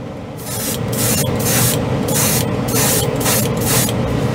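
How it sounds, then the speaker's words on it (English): A loud, steady hiss of an airbrush spraying paint with pulsing bursts and a low compressor hum underneath, close to the microphone. "My compressor makes more noise in the booth now."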